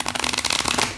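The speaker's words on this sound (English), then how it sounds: "let me do a couple more shuffles just so that you know that these are randomized" Tarot cards being shuffled by hand, a rapid run of crisp papery flutters and slaps close up, steady and dense through the whole second with no talking.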